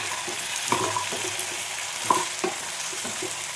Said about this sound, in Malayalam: ചക്കക്കുരു എണ്ണയിലൊന്ന് വാഴട്ടെ